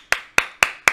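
Four sharp hand claps in a steady, evenly spaced rhythm ring out close and clear, with no talking over them.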